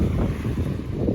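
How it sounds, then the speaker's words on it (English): Ocean surf rumbles low and steady on a beach where someone hunts sea glass, mixed with heavy wind buffeting the microphone; the roar stays continuous with no separate crash and no voices. "I know you can hear the waves crashing behind me"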